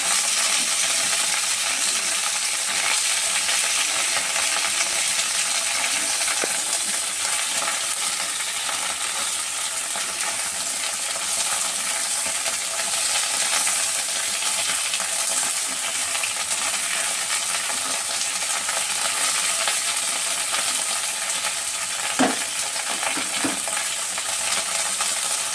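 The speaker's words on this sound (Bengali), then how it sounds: "মিনিট 2-3 ধরে ভেন্ডিটা ভাজা হচ্ছে" Sliced okra (bhindi) fries in a pan with a continuous close sizzle, broken by occasional metallic clinks and scrapes of a spoon stirring it, with no voices over the frying.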